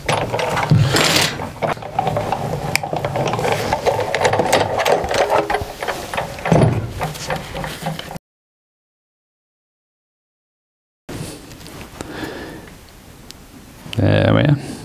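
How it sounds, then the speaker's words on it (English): Sizzix die-cutting machine cranking plates through, a busy mechanical ratcheting and grinding under talk, broken by a silent gap before the cranking briefly resumes. "And into the machine."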